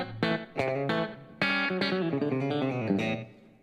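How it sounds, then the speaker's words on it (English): Clean Telecaster-style electric guitar played through a Fractal VP4 effects unit, a few plucked chords and single notes ringing out with distinct attacks and sustained decay, no talking. "So like this is my default telly sound"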